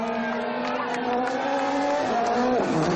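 A Citroën rally car driven by Sébastien Loeb accelerates hard onto a slippery WRC stage in Italy. The engine is loud and near, its pitch climbing steadily, then dropping briefly through a gear change before rising again.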